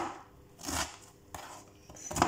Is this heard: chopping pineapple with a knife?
yes